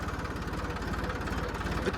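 A tractor engine idles steadily with a low, rhythmic chugging, close and constant throughout, with no talking.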